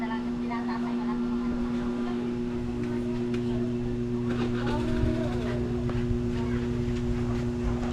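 Motorboat engine running with a steady, loud hum held throughout, voices talking on top of it.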